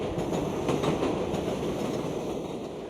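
Elevated subway train from The French Connection rolling past, a loud continuous rumble with faint rhythmic clatter of wheels over rail joints, easing slightly toward the end.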